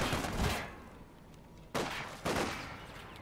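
Machine gun bursts in a wartime strategy video game: three loud, sharp volleys of rapid fire, each cut off abruptly, separated by short quiet gaps, heard with no talking.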